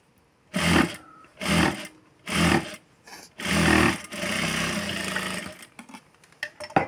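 A sewing machine stitching blouse fabric along the edge, running in five short bursts of rapid mechanical whirring followed by a longer run, close and loud with pauses between.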